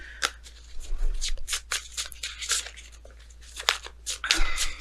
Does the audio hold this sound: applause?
no